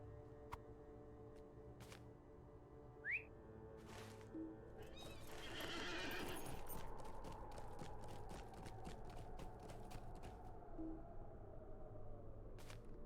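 A mounted horse in Lord of the Rings Online gives a sharp whinny and a snort over steady hoofbeats and game ambience. A swelling rush builds midway and carries through to the end.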